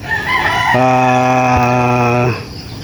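A rooster crows loudly and close, a single long harmonic call among farm chickens and chicks, with soft clucking and chick peeps before it.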